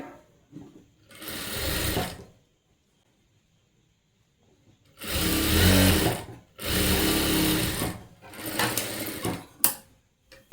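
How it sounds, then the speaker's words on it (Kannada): A sewing machine stitches a folded sleeve hem in bursts of steady whirring, three loud runs separated by pauses, close and alone with no talk. "ಇದನ್ನು ಫೋಲ್ಡ್ ಮಾಡಿ ಸ್ಟಿಚಿಂಗ್ ಮಾಡ್ತಾ ಇದ್ದೀನಿ ನೋಡಿ"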